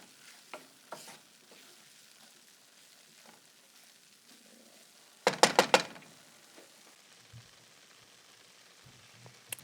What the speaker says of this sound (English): And here is my sautéed blue oyster mushrooms with basmati.